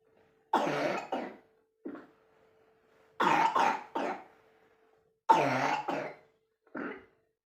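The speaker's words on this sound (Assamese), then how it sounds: "তাই কাহটো বেছি হৈ আছে" A child coughs in three close bursts, each a quick cluster of two or three hacking coughs followed by a softer short cough, near and clear against silence.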